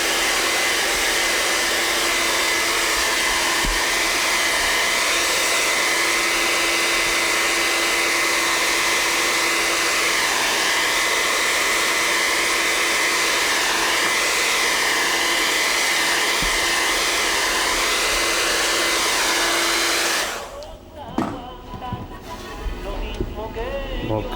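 A hair dryer blows steadily to dry a boot in a boot repair shop, a loud constant whirring hum that runs for about twenty seconds and then cuts off, leaving faint room noise.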